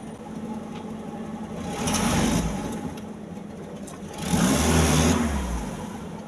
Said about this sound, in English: I've started the car now